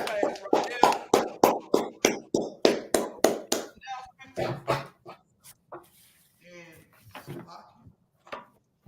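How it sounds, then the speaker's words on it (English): People clapping hands at the end of a class, a run of even rhythmic claps that thins into scattered, fainter claps, with voices talking between them. "So with that, clap it up."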